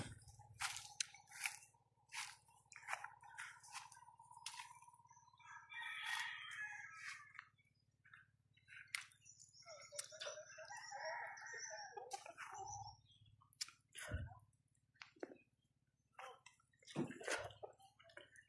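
Roosters crowing and chickens clucking around a rural yard, several drawn-out crows rising over scattered clucks and small knocks, fairly faint and with no talk.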